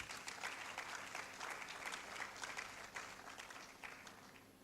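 Sustained audience applause fills a book launch hall as the dean walks onto the stage, dense and steady clapping from a sizeable crowd throughout.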